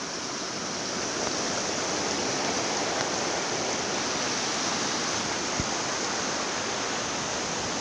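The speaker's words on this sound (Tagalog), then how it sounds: "Masyadong malakas yung tubig dito" Loud, steady rushing of water pouring down at Bangon Falls, a dense broadband roar filling the whole clip with no voices.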